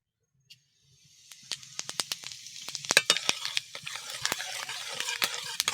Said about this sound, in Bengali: সরিষার তেল দিয়ে দেব তেলের মধ্যে কিছুটা গোটা জিরে দিয়ে দেব